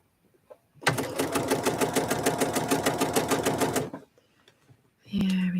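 A sewing machine stitches in a quick, even run of needle strokes for about three seconds, loud and close, then stops; a voice speaks briefly afterward.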